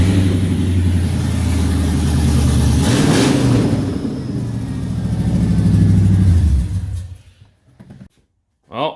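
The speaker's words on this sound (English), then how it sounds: "First time it's moving out under its own LS power here." A K5 Blazer with a swapped-in LS V8 engine rumbles loud and close as it pulls away and drives under its own power, the engine note rising and falling before it fades toward the end.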